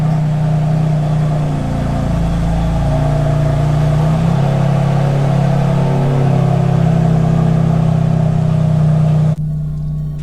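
BMW F80 M3 with its exhaust valve open in sport mode, revving up and holding a loud, droning engine note close by for several seconds before cutting off abruptly; no talk.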